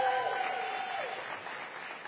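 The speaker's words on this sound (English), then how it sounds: "Give the ANC here a big round of applause" Audience applause fills a short stretch at a community event for the new Anacostia Recreation Center in Ward 8, steady and dense throughout, with a voice briefly audible at the start.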